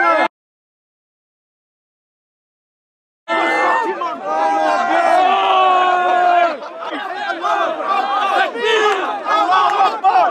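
Crowd of protesters clashing with police, loud shouting and chanting voices rising together after a short silence, dense and close with overlapping cries and calls throughout.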